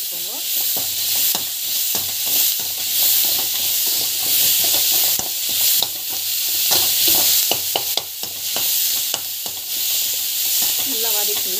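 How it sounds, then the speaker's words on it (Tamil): Onions and tomatoes sautéing in a pan, a loud close hiss of frying with rapid, repeated scraping and clattering of a stirring spoon throughout. "நல்லா டமாட்டோ வந்து ஆட் பண்ணிக்கோங்க. நல்லா வந்து வதக்கி வச்சுக்கோங்க."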